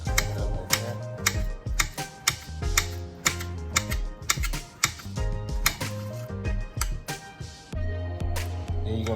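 A knife chopping plantain on a cutting board, a string of crisp sharp taps in a fairly even rhythm, close and clear with no talking.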